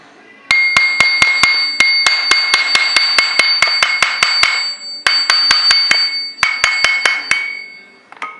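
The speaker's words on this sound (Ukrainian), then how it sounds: "От можна ще чуть взяти міцного молоточка" Rapid, steady metallic hammer strikes ring out close up in several bursts as a gear is driven onto a splined shaft, each tap leaving a bright ringing tone, with short pauses between runs.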